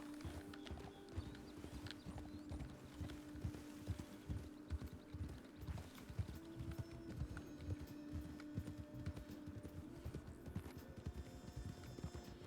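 Horse hooves clip-clopping steadily during a ride in a video game, a fast continuous rhythm of hoof beats with a faint hum underneath, no talk.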